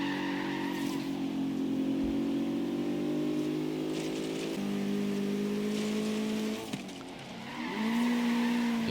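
An SUV race in Forza Horizon 3 between a Bentley and a BMW, with the BMW sliding sideways. Engines drone steadily with shifting pitch and tires squeal during a skid, then the engine revs up again near the end.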